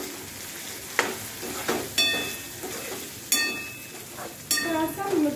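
Spices frying in a kadhai, a soft sizzle broken by several sharp scrapes and clinks of a spoon stirring against the metal pan.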